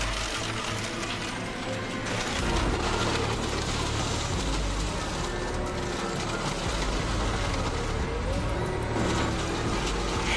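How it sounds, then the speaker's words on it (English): An industrial car crusher grinds a full-sized vehicle into metal scraps that slide away on a conveyor belt, producing a loud, dense, continuous roar of mechanical clatter and ratcheting scrape. "Within seconds, what was once a full-sized vehicle is reduced to heaps of metal scraps, sliding away on the conveyor belt."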